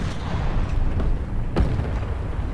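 A Turm III tank fires its gun in War Thunder Mobile. A few dull booming shots stand out over a low, rumbling battle background for a couple of seconds, with no one talking.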